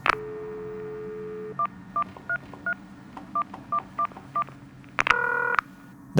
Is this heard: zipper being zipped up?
no